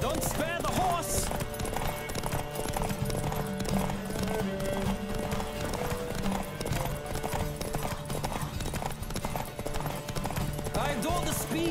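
Horse hooves clip-clop steadily at a gallop in The Witcher 3: Wild Hunt, with occasional whinnies, layered under continuous game music and effects throughout.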